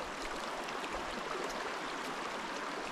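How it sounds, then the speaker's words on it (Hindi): A river flows steadily near a Surya Devi temple, its rushing water making an even, continuous wash of noise close by, with no voices. "हम जाने वाले हैं, ये नदी पार करके"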